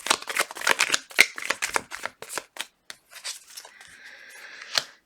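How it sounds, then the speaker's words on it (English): Tarot cards shuffled in quick riffling bursts, crisp papery flutters and slaps close up, then a softer continuous riffle and a final snap of the deck, with no talking. "Last shuffle."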